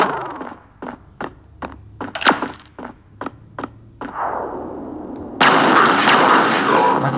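An electric gun in a video game fires a rapid series of about ten sharp, evenly spaced shots, followed by a whooshing burst and then a loud, sustained crackling blast.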